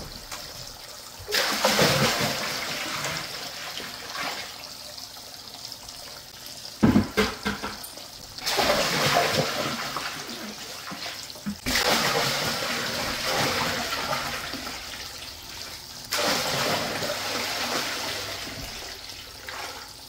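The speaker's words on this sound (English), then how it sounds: "let's go ahead and add more water because we still got a little ways to go until we reach those cinder blocks" Water pours in four separate splashing bursts with short pauses between them, filling a large turtle tank lined with cinder blocks; the pouring is close, moderately loud and free of speech.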